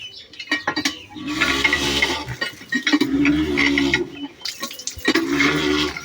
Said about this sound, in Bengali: পানি পড়তেছে অনেক সুন্দর